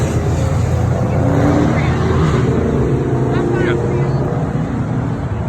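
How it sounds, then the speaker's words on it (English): Cars roar up and down a street during a Coon Rapids, Minnesota car meet, a loud continuous engine drone with passing vehicles, while a person talks nearby. "It's nothing but cars roaring up and down this road."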